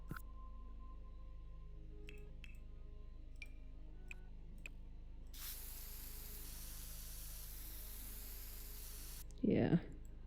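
Terrain paint spray tool in The Sims 4 building mode: a few sharp ticks and clicks, then a long steady broadband hiss of spraying for several seconds, ending with a brief louder burst.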